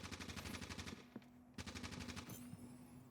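Rapid automatic gunfire from The Division 2 video game comes in two quick rattling bursts separated by a short pause, faint and distant-sounding, with a lone shot in between.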